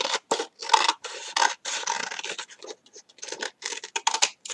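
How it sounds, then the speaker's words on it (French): Scissors snip through paper in quick, crisp bursts, a rapid series of separate cuts with short pauses between them, close and clear with no talking. "Vous allez venir couper tout droit là."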